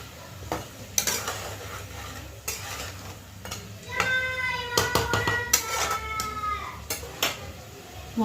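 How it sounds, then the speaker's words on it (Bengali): Spice masala with mashed tomato fries in a pan, a low sizzle broken by sharp clinks and scrapes of a spoon against metal, with several ringing taps in the middle. "মশলাটা কষানো, একটু চাপা দেবো।"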